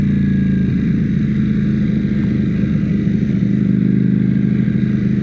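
A Ducati Panigale V4S sport motorcycle engine hums steadily while being ridden, a loud, continuous, even drone without any voices.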